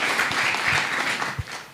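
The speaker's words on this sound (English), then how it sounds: "a big round of applause for that." Audience applause at a Japanese speech contest in Kenya, steady dense clapping from a crowd filling the whole stretch, with a slight swell and fade near the end.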